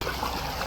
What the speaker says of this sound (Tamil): தண்ணி வருது